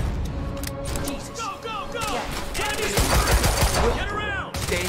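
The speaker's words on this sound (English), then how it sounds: "Opening fire!" Video game gunfire in a tense armed encounter: a rapid burst of several sharp shots in the second half, over a busy mix of voices and effects.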